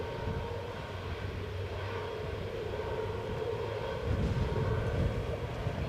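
Ryanair airliner jet taking off from Edinburgh bound for Porto, a steady distant engine roar that swells slightly near the end, heard alone.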